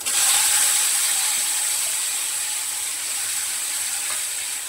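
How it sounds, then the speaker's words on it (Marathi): Mustard seeds and cumin crackle and sizzle in hot oil for a homemade chutney tempering, a close, even hiss with fine popping that runs steadily throughout, no voices. "मोहरी तडतडू देते, जिरं टाकले आणि ही कापलेली कोथिंबीर तेलातच घालणार"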